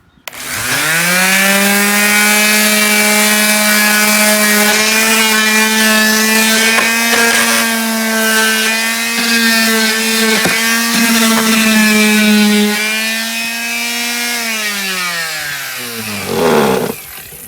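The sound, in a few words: Black & Decker sanding machine sanding a wooden door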